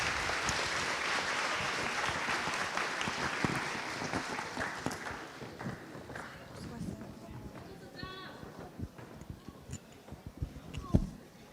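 A crowd claps at a 2024 HIWS opening and orientation session, loud at first and gradually thinning out, with a host talking over the fading applause.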